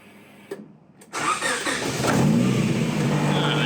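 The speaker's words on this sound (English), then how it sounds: "let's see if the car starts" A car engine cranks briefly after a quiet moment, then catches and settles into a steady, loud idle close by.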